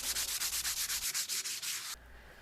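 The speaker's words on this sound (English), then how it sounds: "I like to gently sand in between coats." Gently sanding a linen canvas between coats of GAC100 acrylic primer: about a dozen quick, even strokes of rough scratchy rubbing in a steady rhythm, close and alone, stopping abruptly into quiet.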